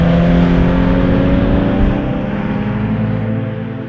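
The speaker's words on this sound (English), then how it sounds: "It's the perfect time to thrash the life out of a Porsche 911 GT3 RS." A Porsche 911 GT3 RS (997.2) flat-six revs hard on a road in the Brecon Beacons, South Wales, a loud, close, steady engine roar that eases slightly as it holds on.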